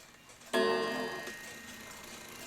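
A New England calendar clock, no. 2710, strikes its hour gong once with a sharp, loud metallic clang that rings on with a wavering, tinny decay, up close and alone with no voices.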